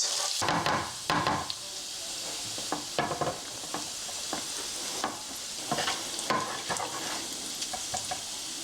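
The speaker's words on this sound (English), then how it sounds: "Don't worry about the sizzle, it's all normal." Steady sizzle of garlic frying in a pan with intermittent stirring clatter and scraping, fairly close, no talking.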